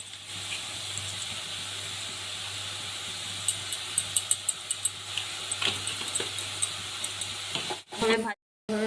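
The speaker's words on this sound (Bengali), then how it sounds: "গাজরগুলো গ্রেট করে রেখেছি সেটা এর মধ্যে দিয়ে আমি ভেজে নেব। নাড়াচাড়া করে ভেজে নেব।" Grated carrots frying and being stirred in a pan with a little salt, for a carrot patishapta pitha, give a steady close sizzle with scattered scraping clicks, then cut off near the end.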